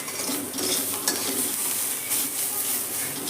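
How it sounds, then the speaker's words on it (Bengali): Grated coconut and fried vermicelli are stirred in a pan, producing a steady close sizzle with continuous scraping and stirring scrapes across the whole stretch and no voices. "নারকেল কোড়াটা যে হালকা নেড়ে নিয়ে"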